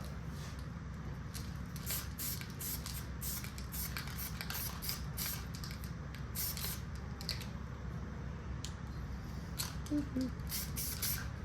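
Weld-through primer hisses from a spray can in repeated short bursts onto the rusty window channel of a 1969 Pontiac GTO Judge, steady and close over a low background hum.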